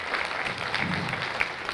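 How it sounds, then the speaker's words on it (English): Audience applause at a Holocaust memorial service of the Carpathian Jews, a steady wash of clapping from a gathered crowd. "please applaud her"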